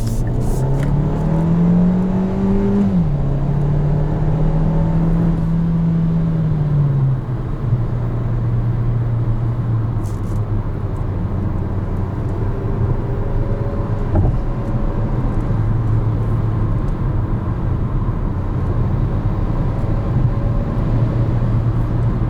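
Turbocharged engine of a 2021 Kia Seltos SX accelerating, a steady loud cabin drone whose pitch climbs and drops through gear changes, with a continuous low rumble and road noise throughout and no talking.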